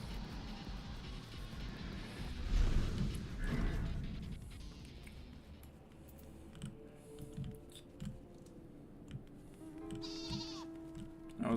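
A goat in the Final Fantasy XIV video game lets out a few bleats, moderately close among light game ambience and clicks.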